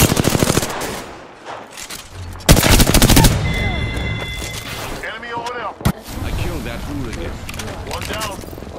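Rapid bursts of gunfire in the Apex Legends video game, loud volleys and single cracks mixed with in-game effects, with a voice talking over the action.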